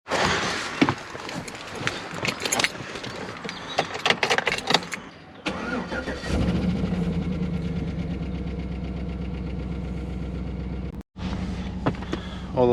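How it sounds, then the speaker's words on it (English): A 2014–2017 GMC Sierra pickup with a P0016 cam/crank correlation fault and a recently unplugged crank sensor cranks over in a short burst of clatter, then catches and settles into a steady, close idle, broken briefly by a momentary dropout. "So let's see if it starts up."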